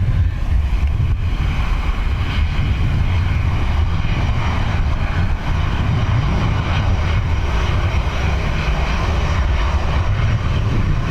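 Airbus A340 jet airliner passing at Dublin Airport, a loud, steady, continuous engine roar with broad rumble holding close and strong throughout, no voices.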